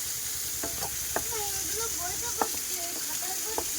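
Food frying in a pan in a village kitchen, a constant hiss of oil with periodic spatula clicks and stirring scrapes, a voice faintly audible in the background.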